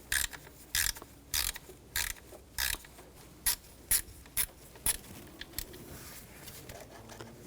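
A ratchet with a T30 socket removes a screw on a 2004–2009 Audi A4 Quattro 2.0L during alternator replacement, giving a string of sharp clicking bursts in a steady rhythm, close and crisp, then tapering off.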